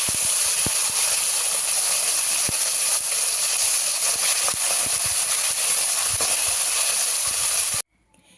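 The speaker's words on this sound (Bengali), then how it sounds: "বাকি মাছগুলো ভেজে নেব।" Khoira fish frying in hot oil fills the clip with a steady bright sizzle and scattered crackles, loud and close, stopping suddenly at the very end.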